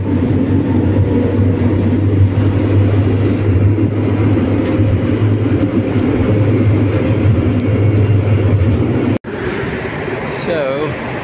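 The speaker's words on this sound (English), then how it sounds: "trams, buses, everything is just crazy here" Busy city street traffic with trams and buses rumbles loudly and steadily, a heavy low drone of passing vehicles that drops off abruptly near the end, with voices present.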